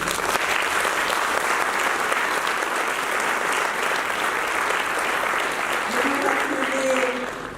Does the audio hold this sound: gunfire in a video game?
no